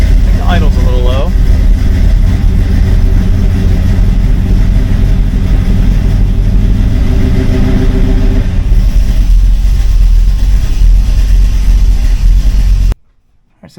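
A 1980 Camaro with a 383 stroker V8 and Sniper 2 fuel injection idles low and steady, a loud, continuous rumble that runs unbroken for about thirteen seconds before cutting off abruptly.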